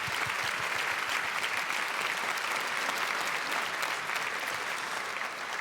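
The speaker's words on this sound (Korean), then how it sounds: "우리 격려하는 마음으로 다시 한번 박수하겠습니다." A church congregation applauding after a worship team's performance at a Wednesday prayer service, loud, dense and sustained clapping from a large crowd that holds steady throughout.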